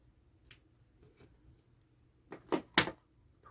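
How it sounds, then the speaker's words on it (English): Scissors snip through crochet yarn in a few quick, sharp cuts close by, clustered near the end after a single earlier snip, with a quiet room around them. "I would go ahead and cut this color"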